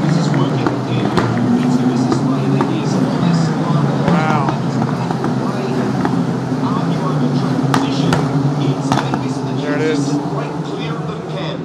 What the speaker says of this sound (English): Kind of see how loud the cars are. These are kind of Formula 3 equivalent cars.